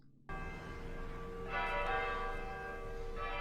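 Church bells from a television episode toll in steady, resonant layered strikes, growing fuller midway, heard alone without speech.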